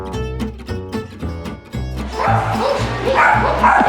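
A dog barks repeatedly at close range, sharp yips and bow-wows in a quick series, with a busier, noisier background building in the second half.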